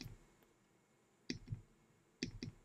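Computer mouse double-clicks while editing photos on a Fujifilm setup: two crisp paired clicks, one pair near the middle and another near the end, close and fairly quiet against a faint room hum.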